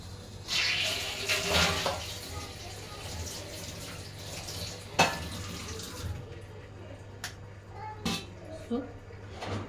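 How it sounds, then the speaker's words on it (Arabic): Running tap water splashes over a baking tray in a kitchen sink, a close, continuous rushing with scraping and clanks of the metal tray as it is rinsed, someone talking over it. "اغسل بس الصينيه دي."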